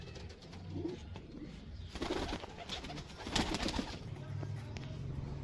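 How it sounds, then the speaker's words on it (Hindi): A pair of Border breed pigeons in Gujarat coo in repeated low, throaty phrases up close, and someone speaks briefly at the start. "ये बॉर्डर वालों में से कबूतर है"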